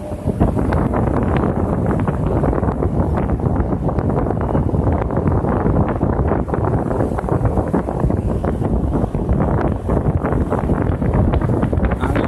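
A homemade 50-inch blower fan running, giving a loud, steady rush of air with a constant roaring, wind-like texture from start to finish.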